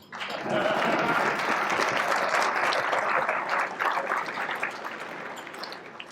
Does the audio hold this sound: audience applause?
yes